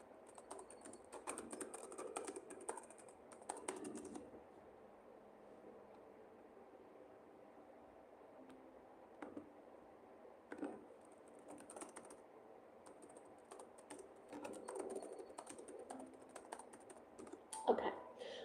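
Quiet bursts of rapid typing on a computer keyboard, with clustered keystrokes separated by short pauses in a still room.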